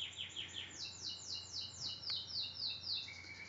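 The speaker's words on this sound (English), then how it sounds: "what's that bird singing in the background of my video" Bird singing in the background outdoors: a repeated series of high descending chirps and whistles in a steady rhythmic pattern, clear but soft and distant over quiet room noise.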